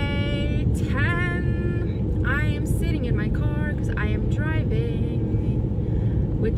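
A car is being driven, with a constant low road and engine rumble filling the cabin while someone talks over it.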